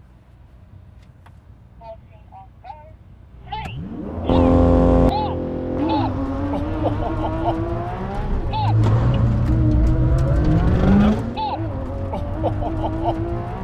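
Engines of a McLaren Senna and a Lamborghini Sian roar loud and close as a race begins, with a strong surge after a quiet start and rising pitch sweeps as the cars accelerate, while a person exclaims briefly.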